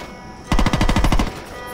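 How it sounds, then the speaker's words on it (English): A quick burst of assault rifle fire in Saints Row 2, roughly ten loud rapid shots over under a second, standing out sharply against a low background hum. "Oh, I even have an assault rifle!"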